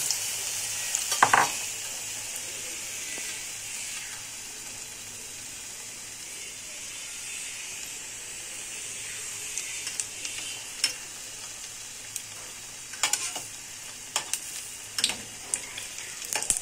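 Soft paneer frying in a pan gives a steady bright sizzle throughout, with a few sharp clicks and taps of a utensil scattered near the end and no talking.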